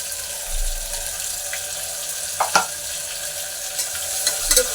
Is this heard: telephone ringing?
no